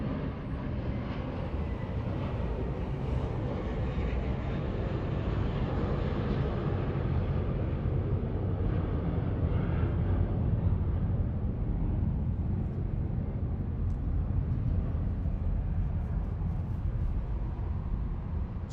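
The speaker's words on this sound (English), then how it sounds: "coming up here we have American Airlines 1994 headed to Dallas Fort Worth on an A321" An American Airlines Airbus A321 at Los Angeles International Airport gives a constant low jet engine roar that holds steady throughout, distant but full, with a faint rumble and no talk.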